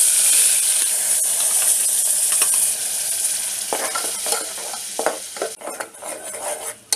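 Ground spice paste hits hot oil in a pressure cooker for a peanut curry, a fasting-day dish, giving a loud steady sizzle that breaks into scraping stirring strokes in the second half, with no voices.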